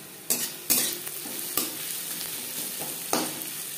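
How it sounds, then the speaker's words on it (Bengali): Chopped onions frying lightly in a little oil for a silver carp curry, a soft continuous sizzle broken by several sharp spatula scrapes and knocks against the pan, no voices. "পেঁয়াজ হালকা করে ভেজে নেব।"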